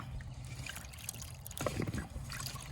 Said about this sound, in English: Again, just filling it up with water and letting it run through.